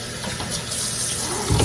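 Tap water runs steadily into a pot for neck bones, a continuous broad rushing splash at close range that stays even throughout, with a slightly heavier gush near the end.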